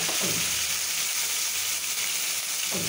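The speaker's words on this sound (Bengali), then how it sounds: "এখন এই ভাজবো মাংসটা" Chicken mince frying in a pan, a loud, dense, unbroken sizzle heard up close, with a faint scrape at the start and end.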